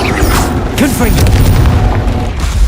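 Confringo blast spell in Hogwarts Legacy gameplay: a loud, sustained booming explosion with dense rumbling noise and crackling bursts, a voice shouting over the din.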